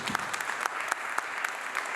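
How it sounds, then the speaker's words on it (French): An audience claps warmly at a corporate communication event, producing dense, steady applause close by with scattered sharper claps standing out. No one speaks over it. "je voudrais qu'on applaudisse énormément"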